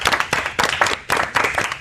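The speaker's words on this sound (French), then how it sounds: "Je pense qu'on peut applaudir." A studio audience at a televised debate claps in several quick bursts, sharp and fairly close, with brief gaps between the waves of clapping.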